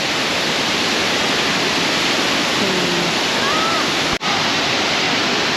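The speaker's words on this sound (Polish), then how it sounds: "to pierwszy taki intensywny wodospad, który widzę w życiu" An intense, fast-flowing waterfall in Thailand roars as a loud, steady broadband rush that holds nearly unbroken throughout, with only one brief dip.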